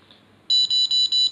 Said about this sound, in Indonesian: Wah, di drone-nya juga ada alarm booster ya.